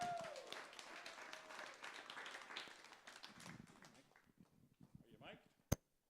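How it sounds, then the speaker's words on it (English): Audience at a Pecha Kucha presentation evening applauds a presenter with fairly quiet clapping that thins out, scattered chatter and a sharp bump near the end. "But you do have to applaud this."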